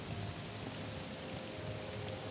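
Rain in the modded video game Morrowind, a steady, fairly faint hiss of rainfall with no talking.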